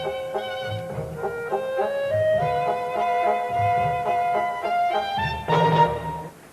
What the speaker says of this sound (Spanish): Ese es el sonido de Stravinsky